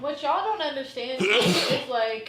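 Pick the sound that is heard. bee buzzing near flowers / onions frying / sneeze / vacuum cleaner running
sneeze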